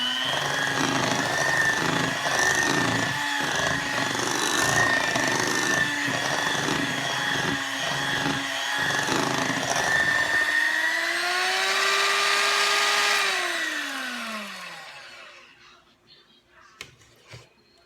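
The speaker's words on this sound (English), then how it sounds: "So I'm just going to mix it one last time," An electric mixer beats peanut butter icing with a steady, loud motor whine and rattling beaters. The whine runs continuously, then sinks in pitch as the mixer winds down to silence, followed by a couple of faint clicks.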